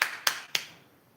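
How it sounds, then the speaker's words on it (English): During a middle-term factorisation maths lesson, students give three sharp, separate claps in quick succession, close and crisp, each fading fast into quiet. "Please give a big clap for them."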